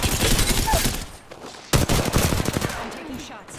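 Rapid automatic gunfire from the video game Apex Legends, loud close bursts of shots with a brief lull before a fresh volley resumes.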